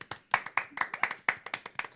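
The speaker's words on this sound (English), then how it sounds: "A smattering of applause." A small, scattered smattering of applause at a comedic board-game show, a few people clapping irregularly in quick, uneven bursts.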